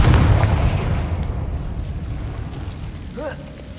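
A Confringo fire spell detonates in a Hogwarts video game, a loud booming blast at the start that decays into a long rumbling tail.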